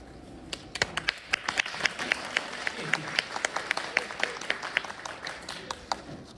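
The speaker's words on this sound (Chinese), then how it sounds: "谢谢各位稀稀拉拉的掌声吧， 真不容易。" At an evening crosstalk show in a Beijing theater, a small audience gives sparse, scattered applause: uneven separate claps rather than a full ovation, with a performer talking over them.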